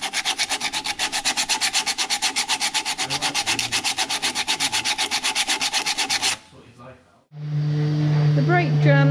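Rapid rhythmic brushing strokes on Rover P4 rear brake components clear away dust, loud and close for several seconds, then a brief pause before a different whirring mechanical noise starts.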